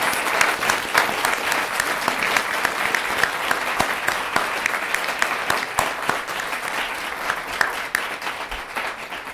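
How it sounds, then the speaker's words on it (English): A large audience at an international public policy debate final applauds the competing teams, a dense and sustained wash of clapping with occasional sharper claps, slowly easing toward the end. "Let's give a big round of applause for all of those teams."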